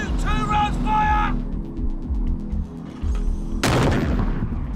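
81mm mortars fire at a military position in Afghanistan, a sharp, loud blast ringing out near the end after a shouted fire command, with radio-like voices and mechanical noise beforehand.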